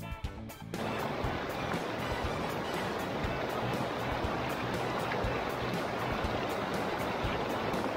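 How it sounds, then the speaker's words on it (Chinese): A small creek flows beside large rocks, giving a constant rushing, gurgling wash of water that starts after a brief quieter moment and stays steady, with no voices. "它配旁边那个小溪啊，整个超悠哉的哎、欸，小乖"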